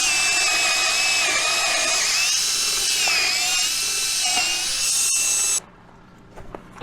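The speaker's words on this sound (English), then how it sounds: "Got it drilled out." A power drill bores out and enlarges a hole on a farm, running as a loud, steady high-pitched whine that wavers slightly in pitch for about five seconds, then cuts off abruptly, leaving near silence with faint handling noises.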